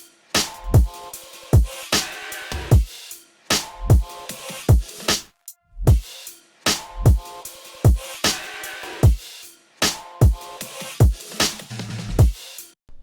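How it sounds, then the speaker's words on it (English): Full percussion layer of an electronic music track: punchy kicks, snappy hits and bright ticks in a steady looping groove, loud and close with a low tonal fill near the end, no talk. "altogether the percussion sounds like this"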